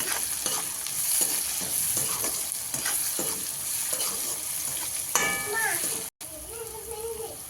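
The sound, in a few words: stirring chopped vegetables and chillies in pan for pav bhaji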